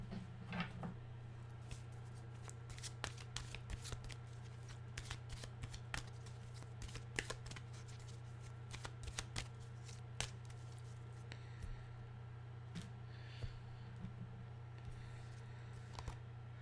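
A deck of oracle cards is shuffled repeatedly at close range, giving a series of soft riffling flicks and slaps over a steady low hum in a quiet room.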